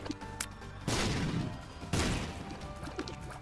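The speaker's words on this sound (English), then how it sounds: "various enemies like this guy right here which is shooting acid at me" Enemy shooting acid in The Binding of Isaac: Rebirth, heard as two heavy, loud splattering bursts about a second apart, each fading over layered game music and effects.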